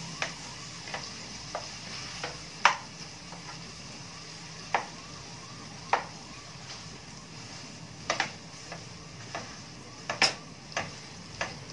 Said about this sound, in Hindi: ये हमारा खोया डाल देती हूँ। और इसे हमें कम आंच पे भूनना है।